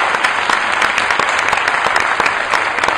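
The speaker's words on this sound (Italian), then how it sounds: "Un altro applauso" Audience applause fills a hall at the GSO San Giorgio Casatenovo sports project presentation, greeting Olympic athletes: steady, dense clapping from many hands, close and sustained throughout with no voices over it.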